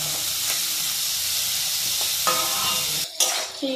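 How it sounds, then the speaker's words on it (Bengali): Gheri snails fry in hot oil, sizzling in a steady hiss that runs throughout, with a few clinks and bursts of stirring near the end. "আর তারপরে গেঁড়িগুলো দিয়ে দেওয়া হচ্ছে তেলের মধ্যে।"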